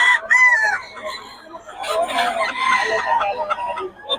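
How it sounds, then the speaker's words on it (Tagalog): Roosters crow in repeated loud calls and hens cluck close by on a Philippine farm, with some background voices mixed in. "Ito yung mga manok natin mga idol."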